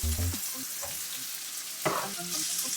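Chicken for a Jamaican-style baked chicken is stirred in a pot, producing a near, steady sizzle with a few clunks and scrapes of the spoon over a short stretch and no talking.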